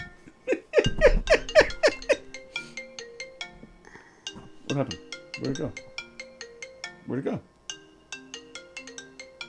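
A FaceTime ringtone plays as a repeating melodic chime pattern from a phone, with laughter and talking over the first seconds before the tune continues alone.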